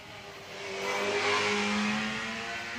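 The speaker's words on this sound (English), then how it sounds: "is just phenomenal with its 1 litre Swift Tune mini engine in the back" A tiny Fiat 500-style hill climb car with a rear-mounted 1 litre Swift Tune Mini engine revs past at Shelsley Walsh, its rasping engine note swelling as it nears, then easing slightly as it moves away.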